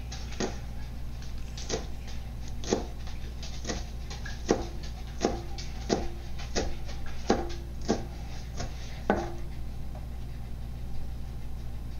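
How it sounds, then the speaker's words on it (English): Knife slicing green onion on a cutting board for a garnish, a steady series of crisp chops, about a dozen evenly spaced strokes over a low steady hum. "So we're gonna slice up the green onion so it's gonna be more like a garnish."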